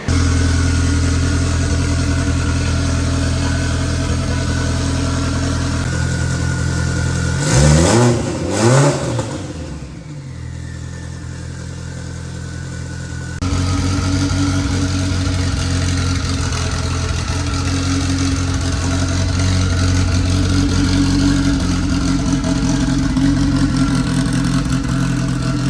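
A car strapped down on a dyno revs hard and steadily for a long stretch, its loud engine droning with a brief rise and dip in pitch near the middle before settling back to a sustained roar.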